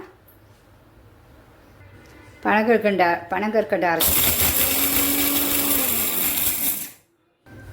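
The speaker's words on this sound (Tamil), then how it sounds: "அந்த பனங்கற்கண்டை மிக்சியில் நம்ம அரைச்சிப்பேன்" A mixer grinder pulverises palm sugar candy in a short loud whirring burst of about three seconds that stops abruptly. It follows a person speaking.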